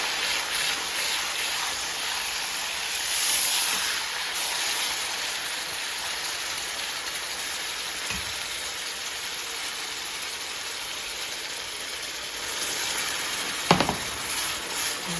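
Pork shoulder steaks frying in a pan give a steady, dense sizzle that runs the whole time at moderate loudness, with a brief clatter near the end.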